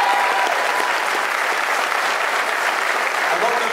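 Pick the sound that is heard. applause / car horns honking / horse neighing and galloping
applause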